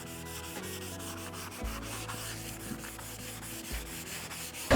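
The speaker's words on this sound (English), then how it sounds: "I'm wanting to blend it a little bit, so I'm just going to sand it." Sanding over a transfer on a painted wooden nightstand, a steady close rubbing scrape with rhythmic back-and-forth strokes, continuous for several seconds with no talk.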